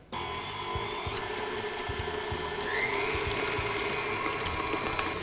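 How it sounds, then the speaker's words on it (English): An electric mixer whisks eggs with caster sugar, giving a steady motor whine that holds throughout and rises slightly in pitch partway, with light clicks and knocks underneath. "While my eggs and sugar are whisking together"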